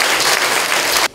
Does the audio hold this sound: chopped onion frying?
no